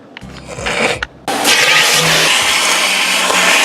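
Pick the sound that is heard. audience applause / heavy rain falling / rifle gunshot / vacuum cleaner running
vacuum cleaner running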